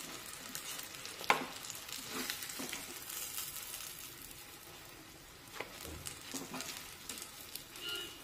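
Stuffed green chillies fry in a kadhai with a soft, continuous sizzle and occasional light scrapes and taps, fairly quiet and without talk.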